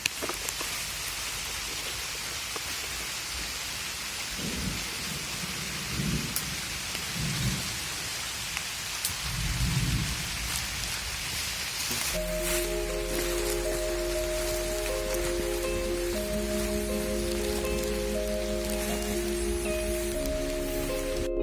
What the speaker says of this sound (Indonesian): Hujan mulai merintik, mulai pakai jas hujan.